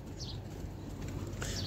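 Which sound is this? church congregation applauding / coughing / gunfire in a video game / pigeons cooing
pigeons cooing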